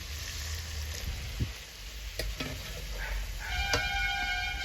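Stirring banana flower and lentil curry after water is added to a hot pan, a soft sizzle and bubbling under scattered clinks of a spoon against metal, no talking.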